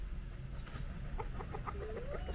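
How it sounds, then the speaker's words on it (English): Chickens cluck steadily in short, busy bursts against a constant farmyard rumble, with a few higher calls rising near the end. "Hello, chickens. It's so noisy, isn't it?"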